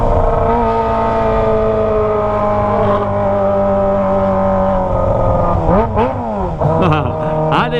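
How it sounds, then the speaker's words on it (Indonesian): Kawasaki ZX25R motorcycle fitted with an open Toce exhaust, revving loudly and close up with a sustained high-pitched engine howl, then sharp blips and rising throttle stabs near the end. "Toce emang ya, kalau digas tuh beneran mantep suaranya guys."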